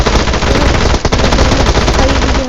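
Loud, sustained automatic gunfire in the PUBG Livik map, a rapid unbroken stream of shots filling the whole stretch with no speech.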